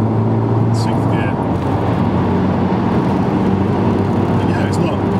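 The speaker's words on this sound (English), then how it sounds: "You can hear the engine noise on the motorway, but it's not especially loud." A 2015 Honda Civic Type R cruises on the motorway in sixth gear, its engine a steady low drone with road and wind noise inside the cabin while someone talks over it.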